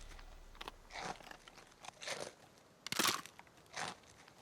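Crisp crunching bites into an apple spice muffin from Granny Smith, several separate crunches spaced about a second apart, close and clear with quiet pauses between them.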